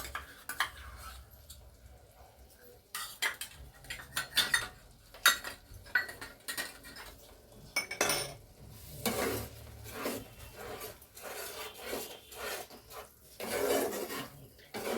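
Yogurt is stirred into a cauliflower korma in a pot, giving soft irregular scraping and rasping of a spoon against the metal with occasional clinks, fairly quiet and uneven, with no talking.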